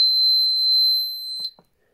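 A piercing, steady high electronic tone sounds from an ESP MAGfire FLK4P four-zone conventional fire alarm panel, loud and close, then cuts off abruptly with a couple of soft clicks before silence.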